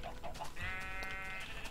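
Sheep in the Minecraft video game bleat in short wavering calls, one after another, close and fairly clear with nothing else over them.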